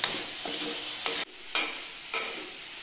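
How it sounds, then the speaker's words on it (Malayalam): Small eggplants (chundakka) sautéing in a pan over a medium flame, a continuous sizzle broken by several spatula stirs and scrapes, close and fairly loud, with no talking. "ഇതൊരു മീഡിയം ഫ്ലെയിമിലിട്ടിട്ട് ഒരു 10 മിനിറ്റ് നന്നായിട്ട് വഴറ്റണം കേട്ടോ"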